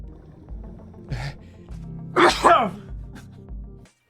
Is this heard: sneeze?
yes